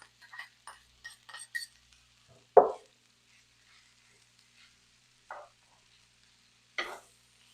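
Tofu and frozen peas stirred in a pan, with faint scattered clicks and scrapes of a utensil, one sharper knock near the middle, and a couple of soft later scrapes amid quiet.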